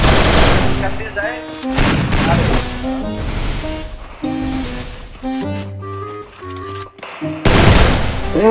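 Rapid bursts of gunfire in a shooting video game ring out over loud in-game music, clustered in heavy volleys with short lulls between.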